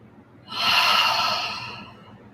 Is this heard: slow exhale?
yes